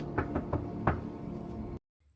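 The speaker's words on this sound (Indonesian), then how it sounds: "Nancy datang ke rumah Nick dengan ketukan yang terdengar unik." A distinctive patterned knock on a house door sounds in a Nancy Drew film, four quick raps followed by a firmer fifth, then the sound cuts to silence.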